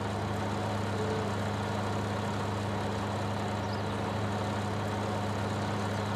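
A simulated tractor with a side-mounted mower drones steadily down a field, its low engine hum constant and unbroken throughout, with no voices over it.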